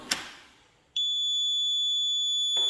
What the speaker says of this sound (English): now it's beeping at us saying, okay, you need to disarm the system